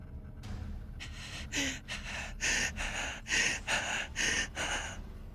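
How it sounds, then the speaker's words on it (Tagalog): A woman pants heavily and hoarsely in a horror audio drama: eight or nine quick, harsh breaths in a steady rhythm, close and fairly quiet, with no music behind them. "Hingal kabayo ng babae at paus ang boses nito"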